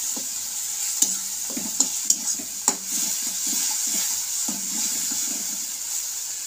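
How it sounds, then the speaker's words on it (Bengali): Onion, tomato and spice paste fries in a pan with a steady sizzle while a spoon stirs it, scraping and knocking against the pan several times in a close, irregular rhythm. "বন্ধুরা দেখুন প্রায় মশলাটা কষা হয়ে যাচ্ছে, আর একটু কষা হবে যাতে পেঁয়াজের কাঁচা গন্ধ না থাকে"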